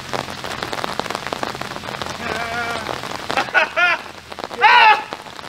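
Heavy rain pours down steadily on a disc golf course, a dense close patter, while a few voices call out over it.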